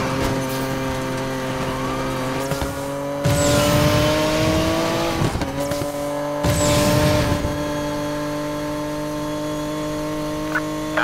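Cars race in Need for Speed Payback with loud, sustained engine drone and shifting revs, joined by two bursts of tire squeal and rushing noise as vehicles pass close by.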